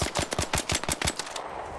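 Rapid automatic gunfire from a video game shooter, about eight sharp bursts in a quick steady rhythm, loud and close, then trailing off into quieter background game noise.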